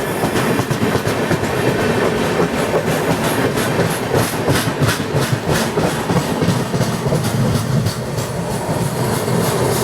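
Rajya Rani Express train heard from inside a 3 AC coach on the Nanded to Mumbai run. A loud, continuous rumble with a steady clickety-clack of wheels on rail joints runs throughout, with no talking.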